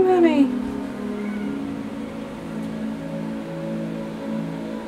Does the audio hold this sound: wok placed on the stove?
no